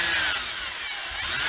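A power drill bores out an old fuel line fitting, a continuous high whining grind that stays loud and steady throughout with no talking.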